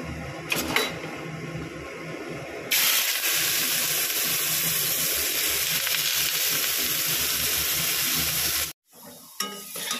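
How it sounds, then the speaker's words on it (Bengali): Spices with turmeric sizzle against cauliflower and potato in a hot pan. The hiss starts quieter, surges into a loud, steady steamy roar for several seconds, then cuts off abruptly before a softer sizzle returns. "মশলাটা ভালো করে কষিয়ে নিই ফুলকপি আলু দিয়ে।"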